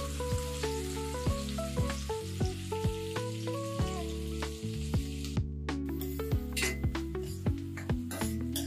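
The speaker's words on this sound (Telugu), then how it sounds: "తర్వాత ఉల్లిపాయ ముక్కలు వేసి దోరగా వేయించుకోవాలి." Onion pieces frying in oil in a pan for an Andhra-style gongura chicken, a steady close sizzle broken by regular stirring scrapes and light clinks of a utensil against the pan.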